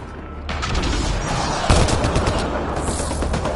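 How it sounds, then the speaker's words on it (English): Rapid bursts of gunfire ring out in a firefight in Mass Effect Andromeda, loud, close and dense, forming a continuous crackling barrage with one sharper shot standing out midway. "Stop shooting!"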